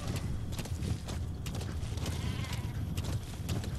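Sheep bleat several times over a dense, steady background of game noise from Metal Gear Solid V: The Phantom Pain, with clattering and rustling throughout.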